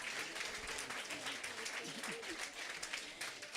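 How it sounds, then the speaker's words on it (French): A crowd applauds steadily for a spelling contest winner at a school spelling event, dense continuous clapping filling the whole stretch with a few voices mixed underneath. "Qu'on l'applaudisse bien, bien fort"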